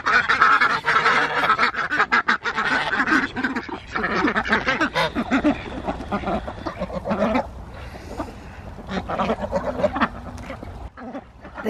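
Geese at a backyard pond, kept alongside Cayuga ducks, honk loudly and continuously in a dense, overlapping chorus at feeding time, with occasional quacking mixed in.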